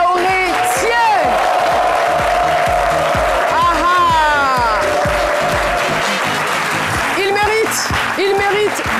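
An audience applauds and cheers a guest on a midday talk show, with steady clapping and crowd noise running under an animated presenter's voice and a few shouts rising above the din.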